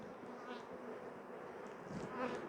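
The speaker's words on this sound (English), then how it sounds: "So there's, you know, quite a few bees. You know, quite a few bees on that side." Honey bees buzz on a brood frame in an apiary hive split, a close, steady, low droning hum with no talk over it.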